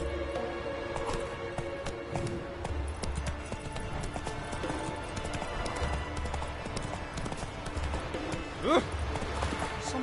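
Roach, a horse in The Witcher 3 video game, gallops with rhythmic clip-clop hoofbeats over ambient game sound and a brief whinny-like call near the end.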